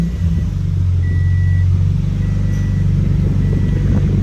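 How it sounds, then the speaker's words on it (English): A Scion FR-S engine idles steadily after an oil change, with a loud, constant low rumble close by and no talking. "we're going to go ahead and start the car up and let it run for a few seconds"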